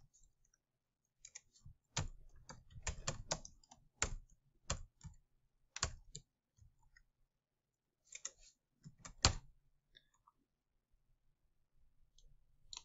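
Quiet, close typing on a computer keyboard while a spreadsheet title is entered: bursts of crisp key clicks in uneven runs, separated by short pauses, with no talking.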